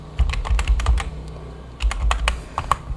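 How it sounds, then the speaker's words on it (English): Someone types a password at a computer keyboard during a Kali Linux login, with two bursts of crisp, close keystrokes separated by a brief pause. "now we have to enter our passwords now"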